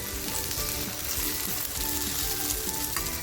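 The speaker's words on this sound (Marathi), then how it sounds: "बघा वांगी किती छान फ्राय झालेली आहे" Eggplant pieces frying in hot oil in a pan for kharda vangi, a dense, even crackling sizzle held close and loud throughout, with no voices.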